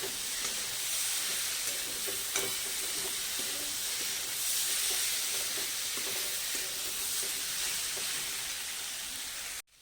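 Mixed vegetables stir-fried over a high gas flame make a loud, hissing sizzle with stirring clatter and scrapes, steady for several seconds before cutting off abruptly.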